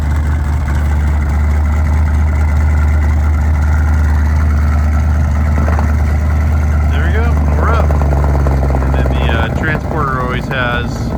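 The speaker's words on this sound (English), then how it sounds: "It sounds pretty good because it has like no exhaust." A car engine with almost no exhaust drones loud and close in a deep, constant rumble as the car is driven up onto a transporter on wet ground; faint voices surface toward the end.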